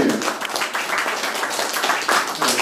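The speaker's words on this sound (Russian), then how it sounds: "то здесь бурные аплодисменты" An audience at a photo exhibition opening in Sevastopol gives a warm round of applause for a war veteran. The clapping is continuous and moderately loud, with swelling bursts of many hands and a little talk mixed in.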